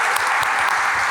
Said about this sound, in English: let's give a huge round of applause for our keynote speaker, Joanna Bryson.